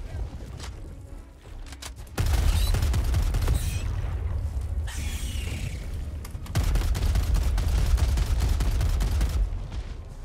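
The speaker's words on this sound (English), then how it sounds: "Wasting all my ammo just trying to kill one of them." Sustained automatic gunfire from a squad shooter video game, Helldivers 2, with dense rapid bursts running nearly nonstop, loud and close, with a brief lull early before the firing resumes and continues to the end.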